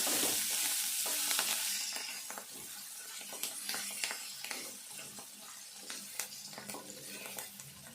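Coriander leaves stirred into a hot tempering of chillies and onions for a spinach fry, giving a steady sizzle that fades slightly after a loud start, with scattered clinks and scrapes of a spatula against the pan.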